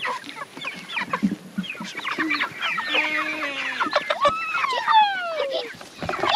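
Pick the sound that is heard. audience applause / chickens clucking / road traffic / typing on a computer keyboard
chickens clucking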